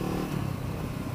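A Honda CBR sports motorcycle on a track roars loud and close in a brief, rough, continuous engine burst.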